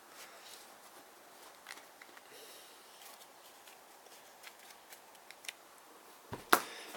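Epic Spell Wars of the Battle Wizards game cards are handled and shuffled, with soft papery riffles and scattered light taps and clicks, ending in a sharper snap, at close range with no voice.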